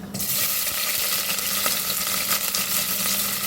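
Onions frying in oil with green chillies and tomatoes make a dense, loud, continuous sizzle close by, with faint stirring clicks under it.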